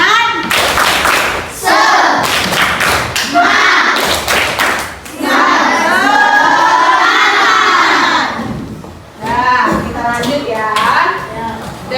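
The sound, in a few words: children doing a 'tepuk semangat' clapping chant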